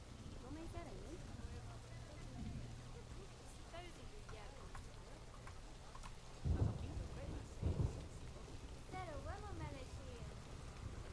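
Steady rain and rolling thunder from a zoo-building video game, with the thunder swelling in two loud bursts midway while a person talks over the storm.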